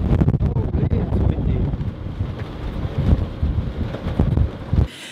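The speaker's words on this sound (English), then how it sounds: "the chilling wind kept getting stronger and stronger" A strong, chilly wind buffets the microphone aboard a boat on a European inland river, a loud continuous rumbling roar with gusty surges that cuts off abruptly near the end.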